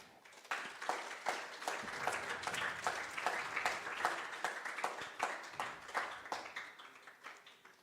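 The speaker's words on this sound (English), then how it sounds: "let's welcome him with one big applause" A small audience at a yoga wisdom talk in Rishikesh claps to welcome a speaker. The applause is fairly close, with distinct individual claps in a steady patter for several seconds before it thins out.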